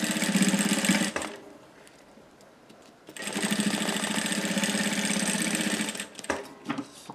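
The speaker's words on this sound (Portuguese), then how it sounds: "a gente vai costurar ele assim" Sewing machine stitching bias binding onto a plastic pouch, a steady close motor whir running for about a second, pausing, then resuming for three seconds before stopping with a few clicks.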